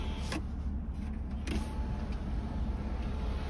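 Power windows on a 1999 Mercedes-Benz C43 AMG run up and down, a quiet motor whine under the car's hum, with two brief thuds as the glass seats.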